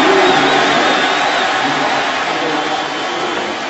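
A packed stadium crowd roars at a 2013 pro football game between the Jaguars and the Seahawks in Seattle, a loud, unbroken roar that holds steady and eases slightly toward the end.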